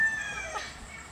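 A guinea fowl gives one short, harsh call, close and moderately loud, with no one talking over it.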